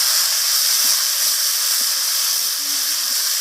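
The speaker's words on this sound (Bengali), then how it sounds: "আদাটা আর মশলাটাকে আমি একটু ফোড়নের সাথে ভাজা ভাজা করে নিচ্ছি" Ginger paste with ground cumin and spices frying in hot oil, a steady bright sizzle and hiss that carries on evenly, close up and without talk.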